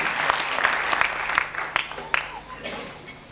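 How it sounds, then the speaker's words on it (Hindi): Audience applause at a mushaira poetry gathering welcoming a poet to the stage, moderately loud dense clapping with a few sharper claps standing out, fading slightly toward the end. "स्वागत करें तालियों से श्री गंगा प्रसाद जी।"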